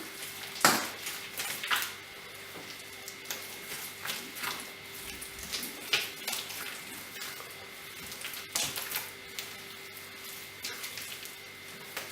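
Wet, sticky slapping and scraping of high-butter Christmas stollen dough being mixed by hand on a wooden bench, in irregular soft bursts with a few sharper knocks, close up with no talk.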